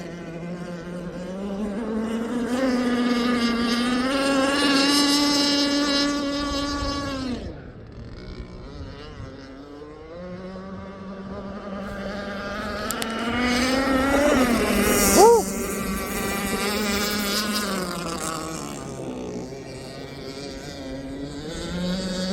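An Aeromarine Avenger 44 gas RC boat with a Zenoah 29cc engine and steel Gizmo pipe screams continuously at high revs, dipping briefly and then winding back up, loud and alone.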